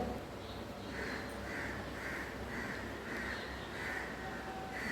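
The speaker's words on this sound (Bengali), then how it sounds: "কাক ডাকছে?" A crow caws repeatedly from a distance near a rooftop, around eight evenly spaced calls heard faintly over steady outdoor background noise.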